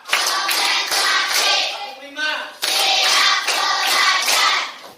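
A group of schoolchildren in an Indonesian classroom clap in sharp rhythmic bursts for a counting clap game, pausing briefly while a voice sounds before the clapping resumes in quick, loud volleys.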